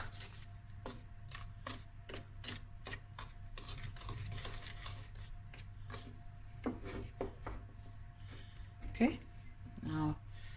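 Icing sugar stirred in a bowl for biscuit icing: rapid, close clicks and taps of a spoon against the bowl repeat steadily over a low background hum, with a brief voice near the end.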